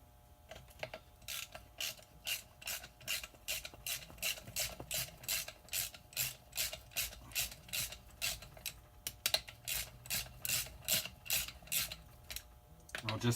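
A ratchet wrench tightens the bolts on a divorced NP205 transfer case during reassembly, a close, quiet series of quick clicking bursts in a steady back-and-forth rhythm with short pauses, no talking.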